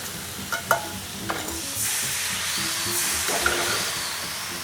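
Tom yum paste and fresh pasta are stir-fried together in a pan, a close sizzle with brisk scraping and clattering of a spatula, and a few sharp knocks, no talking.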